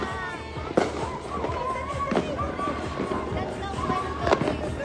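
New Year's Eve fireworks in Laguna pop and boom at a distance, with scattered sharp bangs and a steady crackling haze throughout. Voices talk excitedly over the whole stretch.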